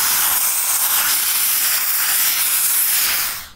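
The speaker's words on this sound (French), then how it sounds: "on remet un petit coup de vapeur juste vraiment dans le creux ici" A steam iron pressing a felt hat lets out a loud, steady hiss of steam that runs unbroken for several seconds, then cuts off abruptly.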